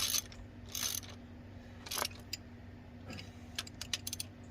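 Bolts being tightened on the exhaust manifold of a Farmall 300 row crop tractor, heard as short bursts of ratcheting clicks spread over a few seconds, fairly close against a steady low hum.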